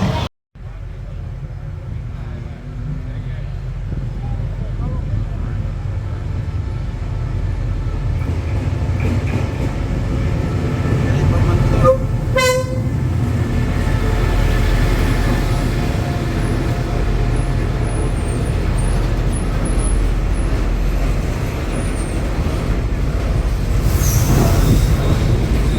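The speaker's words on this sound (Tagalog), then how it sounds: "Padating na ang tren." A train rumbles steadily into a station in Thailand with rolling wheel noise and a brief metallic squeal, close by, while voices murmur in the background.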